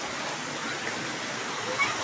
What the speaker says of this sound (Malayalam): വെള്ളച്ചാട്ടത്തിന്റെ സൗണ്ടാ